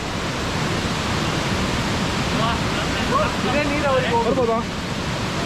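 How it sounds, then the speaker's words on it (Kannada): Ukkada Falls, a waterfall in a coffee estate area near Chikmagalur, roars as a dense, steady wash of rushing water, while voices talk briefly over it. "ಫಾಲ್ಸ್ ನೋಡಿ, ಸೂಪರ್ ಉಂಟು."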